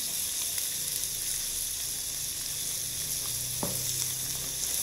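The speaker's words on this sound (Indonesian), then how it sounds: "Kita panggang semuanya guys," Meat sizzles steadily on a barbecue grill, a constant close hiss of frying with a faint clink partway through and no voices.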